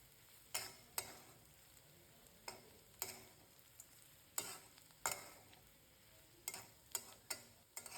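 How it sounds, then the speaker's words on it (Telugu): Bitter gourd curry being stirred and fried with spice powder in a pan, a soft sizzle under repeated sharp scrapes and clinks of the spoon at an uneven rhythm, close and quiet, with no talk. "బాగా కలుపుకొని ఒక 2 నిమిషాల పాటు వేయించుకుందాం."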